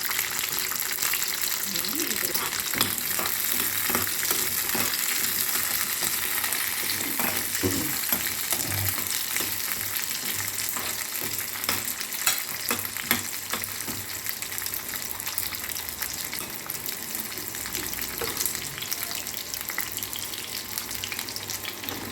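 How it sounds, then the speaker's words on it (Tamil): Chopped onions fry in hot oil in a pan for a kurma, making a continuous close sizzle with scattered pops and stirring clatter while a voice talks over it at times. "ஒரு பேனில் எண்ணெய் போட்டுட்டு ஸோ எண்ணெய் காஞ்ச பிறகு வெங்காயம் சுட வெங்காயம்"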